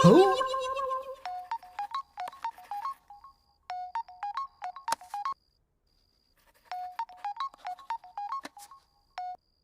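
Mobile phone ringtone sounding in short repeated electronic beep phrases, clear and close, with brief gaps between bursts and a longer pause before the pattern resumes.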